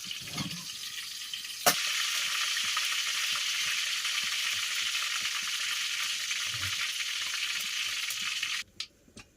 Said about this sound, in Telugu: ఆయిల్ వేడికిన తర్వాత చక్క లవంగాలు వేసుకున్నా వాసన కోసమని